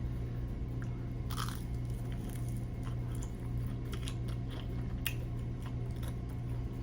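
Crunchy fried chicken wings dressed with Tabasco sauce being bitten and chewed close up, a run of sharp crisp crunches spread through the stretch over a steady low background hum, with no talking.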